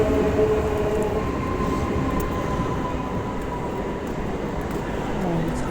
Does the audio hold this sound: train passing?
yes